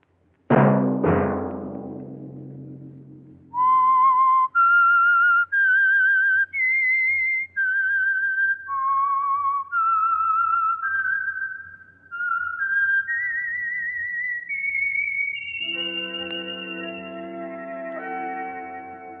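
A whistled signal tune from the 1951 radio program The Whistler: a clear solo melody of distinct held notes rising and falling, opened by two sharp hits and handing off to an orchestral chord at the end.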